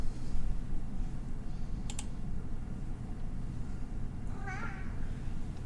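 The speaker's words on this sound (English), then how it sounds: "Hear my cat. He likes to talk. He's very chatty" A pet cat meows a few times, a short chattering run near the end of the stretch, over a steady low background hum with faint clicks; no one speaks.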